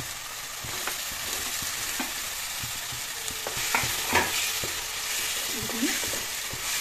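Potatoes frying in oil with cumin and chili powder, a steady close sizzle broken by the scrape and clatter of a spoon stirring the pan.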